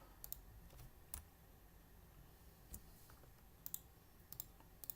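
Quiet, close computer keyboard typing, a few irregular clusters of key clicks with pauses between them, faint and alone over low room noise.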